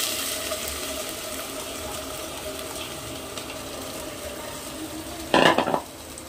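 Washed rice and chopped tomatoes stir-fry in a pan for masala rice, giving a steady soft sizzle, with a brief clatter of a spoon scraping the pan near the end.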